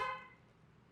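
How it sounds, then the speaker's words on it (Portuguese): The original horn of a 1989 Chevrolet Monza Classic gives a single short, close honk that cuts off quickly and leaves a fading tail. "Buzina original."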